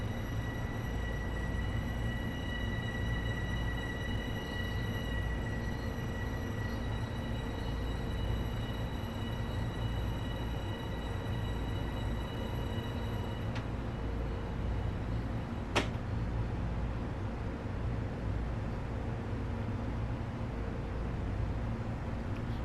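Steady low electric hum and rumble of an LIRR M7 commuter train in Train Sim World 2, faint and even throughout, with a single sharp click near the end and no voices.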